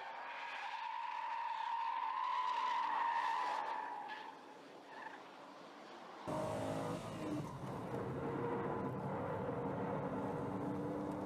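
A Toyota Chaser 100 sliding sideways in a drift, its tires squealing loudly for several seconds before the sound turns into a rough, broad roar of tire and engine noise, with no talking.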